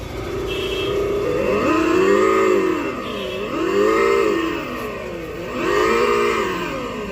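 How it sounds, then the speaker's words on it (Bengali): A Yakuza Aqaba electric scooter plays its simulated engine sound as the throttle is worked, giving three rising-and-falling revving swells with a siren-like tonal sweep, fairly loud and near, with no talk. "স্কুটি সেলফ দেওয়ার সাথে সাথে একটি ইঞ্জিনের সাউন্ড আছে সেম সাউন্ড এই স্কুটির মধ্যে দেওয়া হয়েছে এক্সিলেটারের সাথে সাথে সাউন্ডটি অটোমেটিক"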